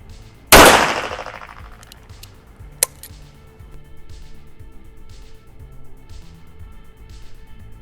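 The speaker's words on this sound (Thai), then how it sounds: "ต่อไปนะครับนัดที่ 2 ของกระสุนยาง" A single loud, sharp bang from a homemade Thai gun firing a rubber bullet rings out and decays quickly, followed by a faint click and quiet ambience.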